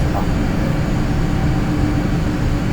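Learjet 45 jet engines on landing approach from Kelowna toward Vancouver, Canada, a loud, steady broadband roar that holds evenly throughout.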